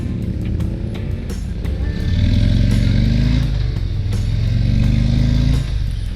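A 2021 Harley-Davidson CVO Limited motorcycle rumbles along on a group ride, a loud steady engine drone that rises as the throttle opens mid-ride and then settles, heard over wind noise.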